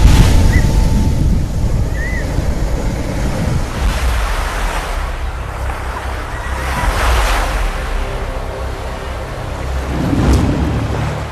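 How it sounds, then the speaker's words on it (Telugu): A boat pushes through Arabian Sea waves, giving a steady, close rushing wash of water with wind buffeting the microphone and slight surges every few seconds. No one speaks. "అరేబియా సముద్రపు అలలను చీల్చుకుంటూ"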